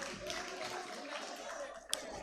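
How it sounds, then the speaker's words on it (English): Graduates at a school graduation ceremony clap for themselves, a dense, fairly faint patter of applause with a sharp single clap near the end. "Clap yourselves, man. Proud of you"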